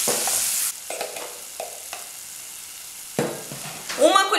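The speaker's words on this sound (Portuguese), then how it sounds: "vamos deixar os dois darem uma refogada e ficarem douradinhos" Ingredients sautéing in a pan for a shrimp moqueca, with chopped tomatoes added: a loud initial hiss drops to a soft simmer punctuated by spatula scrapes, then rises again near the end with clattering.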